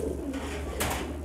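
A high flyer Giribaz pigeon coos softly in a short, low rolling call, close by, with a brief rustle partway through.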